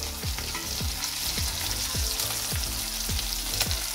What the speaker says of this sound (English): Our smoked lard is cooked on one side, so we're gonna flip it on the other side.